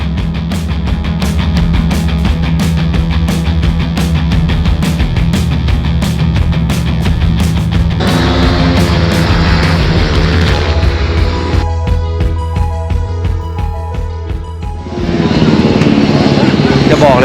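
Ohvale GP2 mini motorcycle ridden on a track in America, a loud, buzzing engine that holds steady and then shifts in pitch as the bike works through gears, with talk over parts of the run.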